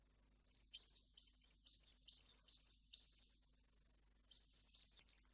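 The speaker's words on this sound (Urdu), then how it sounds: "اس آواز میں ہم نے سنا کہ ایک پرندہ چہچہا رہا تھا" A single bird chirps a rapid series of bright, high tweets in two bursts with a short pause between, clear and alone against silence, played as a recording.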